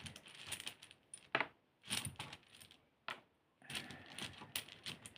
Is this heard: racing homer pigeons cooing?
no